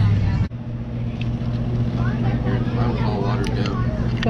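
A steady low boat engine drone runs throughout while people chatter over it, with a brief thump near the start.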